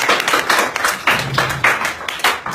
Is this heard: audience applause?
yes